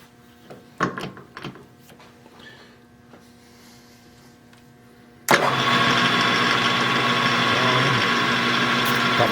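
A small homebuilt lathe at 600 RPM: a few light clicks and clunks, then the motor kicks on abruptly into a loud, steady whirring drone that holds to the end.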